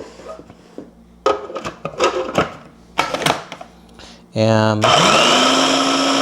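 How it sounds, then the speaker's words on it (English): A food processor whirs up and chops cauliflower chunks into rice, kicking in loud and steady after a few seconds of knocking and handling sounds with a bit of talk. "And you're going to put them in the food processor."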